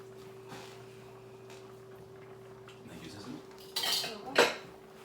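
A teaspoon clinks against a pan while creamy chicken and mushroom sauce is tasted, giving a few short metallic taps over a low kitchen hum, with a brighter clatter near the end.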